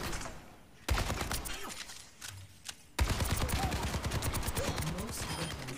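Gunfire aimed at training bots in the video game Overwatch 2, with a short burst followed by a sustained rapid stream of shots that is loud and dense and carries no clear speech.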